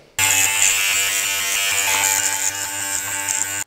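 Electric hair clipper from a budget Suprent clipper-and-shaver kit cutting hair with a number 6 comb: a close, loud, steady buzzing drone that starts abruptly and runs without a break.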